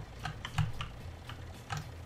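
Computer keyboard keys pressed while playing a farming game, a handful of quiet, sharp clicks spaced irregularly, close and alone against a soft background hum.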